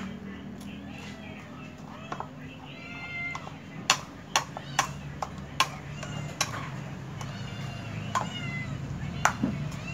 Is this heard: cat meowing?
yes